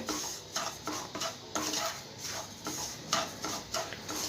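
Semolina and milk being stirred in a pan, a spoon scraping and clinking against the metal in a steady repeated rhythm, fairly quiet and with no talking.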